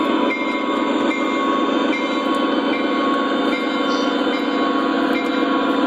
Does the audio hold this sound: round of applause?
no